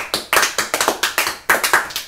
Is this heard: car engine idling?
no